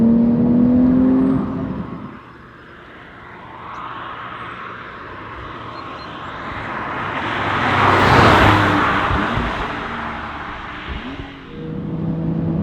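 A Porsche 992 GTS Carrera 4 engine rises in pitch as it accelerates hard, growing louder toward a peak around the middle before settling, with steady road and wind roar throughout.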